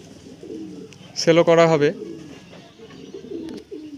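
A pair of chocolate dum pigeons gives a short burst of cooing in a village pigeon loft in Murshidabad, close by and sitting amid a voice speaking before and after.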